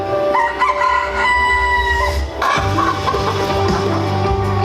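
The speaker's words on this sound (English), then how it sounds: "If anybody wants to adopt a rooster, be prepared for life to become hell." A rooster crows close by, its loud drawn-out calls rising and falling, with a second crow and some clucking following.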